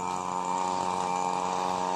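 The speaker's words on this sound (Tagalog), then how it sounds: "Ayan po, nag-grass cutter po." A grass cutter runs continuously while trimming a rocky roadside edge, a steady buzzing whine at moderate distance with no pauses.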